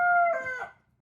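A voice imitates a rooster's crow in a short, tonal cock-a-doodle-doo call, heard clearly and alone as one brief cry with no talk over it.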